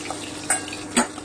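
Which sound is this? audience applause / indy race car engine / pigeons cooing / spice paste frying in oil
spice paste frying in oil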